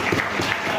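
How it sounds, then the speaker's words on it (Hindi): Audience applause at a seminar: a short burst of steady clapping from a crowd, fairly close and even in loudness, with no voices over it. "मैं तालियां चाहूंगा"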